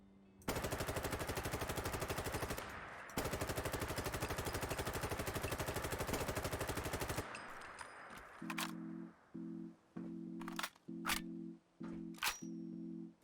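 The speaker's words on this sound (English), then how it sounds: "I also really like the firing sounds on this weapon" A G36 assault rifle in a modded Fallout 4 game fires two long sustained full-auto bursts, loud and dense, followed by a series of short bursts and single shots with metallic clicks between them.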